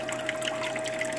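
Water flows steadily through a small ball valve on a magnetic sluice, a continuous close gurgling rush with no break and no voices.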